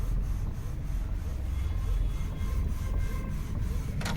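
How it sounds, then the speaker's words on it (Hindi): An Epson L8050 inkjet printer printing a PVC card runs close by with a steady mechanical whir and faint rhythmic pulses, a short scrape at the very end, and no talking. "ये देखिए यहाँ से प्रिंट हो रहा है, काफ़ी स्मूथ है अभी तक के लिए"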